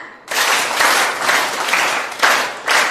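A seminar audience claps on instruction, a loud crowd burst of hand clapping that swells in several waves, fading briefly between pulses, with no talking.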